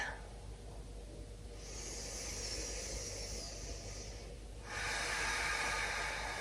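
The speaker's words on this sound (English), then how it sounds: "just breathe" Slow, audible breathing during a yoga flow, a long airy inhale-like hiss held for a few seconds, then a shift into a stronger, rushing exhale, close and alone without speech.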